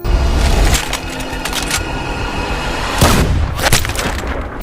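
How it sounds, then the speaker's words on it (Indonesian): Gunfire in a film scene, with heavy booming shots and sharp cracks over a loud rumbling soundtrack, including two distinct blasts near the end. "Ia menggagalkan tembakannya dan menembak rekannya sendiri."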